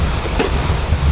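Blustery wind and surf rolling in at the shore, a steady low roar of wind buffeting and waves washing without a break, close and fairly loud.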